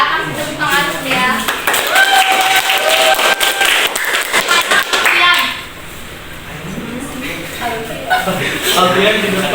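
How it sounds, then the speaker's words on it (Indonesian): A classroom of students claps in applause, with loud, scattered clapping mixed with children's chatter, then fading into talking voices before another burst of clapping and chatter. "Kasih tepuk tangan dulu ya."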